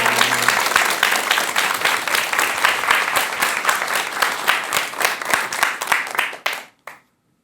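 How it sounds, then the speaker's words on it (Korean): A lecture audience claps for a Buddhist monk about to give his talk, a dense burst of applause that carries on steadily and then cuts off abruptly at the end, with no talk over it. "큰 박수 한번 부탁드릴게요."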